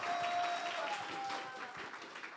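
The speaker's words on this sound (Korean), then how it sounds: "마지막인 만큼 더욱 큰 응원의 박수 부탁드립니다." Brief, fairly faint applause from a church youth group audience at an evangelist training contest, scattered clapping fading over a couple of seconds with light background voices.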